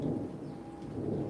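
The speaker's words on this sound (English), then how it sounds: "As the thunder rumbles." Low, continuous thunder rumbles through a passing storm, with soft rain underneath, steady and moderately distant throughout.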